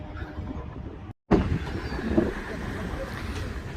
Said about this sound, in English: I'm so sorry, it's very windy.